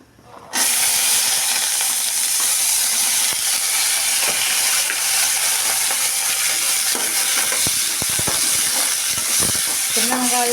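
Small onions, ginger, garlic and curry leaves hit hot oil with a sudden loud sizzle that stays steady and bright, with occasional stirring scrapes near the end.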